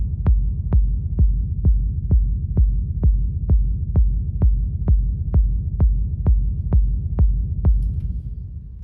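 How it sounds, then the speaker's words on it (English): A techno reverb kick drum built with Ableton's stock plugins, thumping in a steady four-on-the-floor pulse of about seventeen hits, each with a deep booming tail that blurs into a continuous low rumble, played alone. "So that's your basic techno reverb kick, I guess. Using just Ableton plugins."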